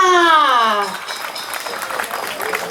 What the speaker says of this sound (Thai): ด้วยการปรบมือดัง ๆ และนานๆอีกครั้งหนึ่งค่ะ